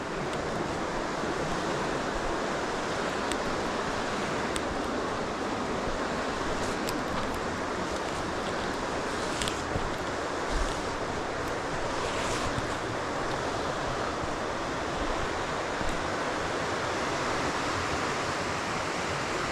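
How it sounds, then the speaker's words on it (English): The River Twiss rushes over boulders in a steady broadband roar of running water, close and continuous, with faint wind buffeting and no voices. "it's just listening to the water running along over the boulders"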